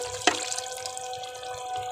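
Water pours into a jug coated with leftover yogurt in a home kitchen, a sharp splash at the start followed by a steady, ringing trickle as it fills, with no talking.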